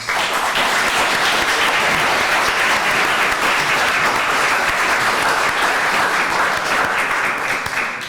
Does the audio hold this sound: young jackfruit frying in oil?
no